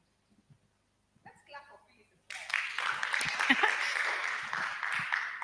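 At a pitch competition for a presidential innovation challenge, a short stretch of near silence with faint talk and movement gives way to steady, moderately loud audience applause.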